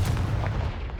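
In the video game Hogwarts Legacy, the Confringo explosive spell goes off as a deep, booming blast. It is close and loud, with a rumbling low end that carries through the brief moment.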